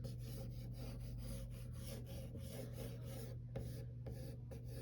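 Pencil rasping steadily across drawing paper in light, loose sketching strokes, a continuous close scratchy texture with a few sharper strokes near the end, no talking.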